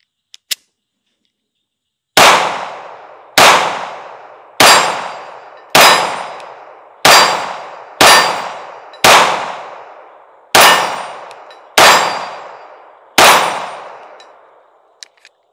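A Smith and Wesson Bodyguard 2.0 pistol fires nine sharp shots at a target in an evenly spaced series, each a loud crack with ringing decay, after a couple of faint clicks.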